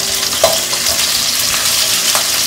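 Chili and onion sizzle steadily in a hot pan over an open flame for Schezwan noodles. The frying is a loud, continuous hiss with a few brief sharper crackles and stirring clinks, and there is no talk.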